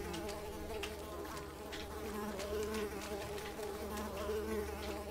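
Wasps in the video game Unravel buzz continuously in a dense, steady drone that hovers close and loud throughout, with a few faint clicks and game sounds underneath.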